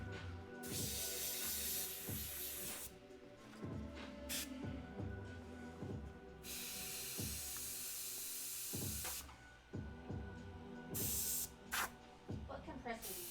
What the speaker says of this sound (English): I'm using a silent air compressor by the company Silent Air